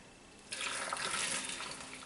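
Pickling liquid poured into a jar of quail eggs, a steady close splash and trickle that starts abruptly and runs continuously for well over a second before easing slightly, with no talking.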